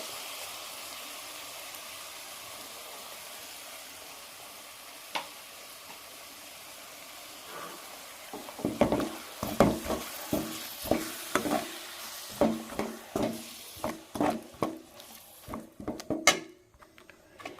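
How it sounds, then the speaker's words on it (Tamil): Tomato paste sautéing in oil for a goat blood gravy: a quiet sizzle for the first half, then a run of close, repeated stirring and scraping strokes against the pan, with no talking. "இப்போ தக்காளி விழுதோட பச்சை ஸ்மெல்லாம் போகிற அளவுக்கு நல்லா வதக்குங்க."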